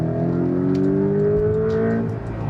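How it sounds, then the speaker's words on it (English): Porsche 718 Boxster accelerating hard from 60 to 100 km/h, its engine note climbing steadily in pitch for a couple of seconds, loud and close inside the cabin, then easing off near the end. "Now some acceleration, 60 to 100."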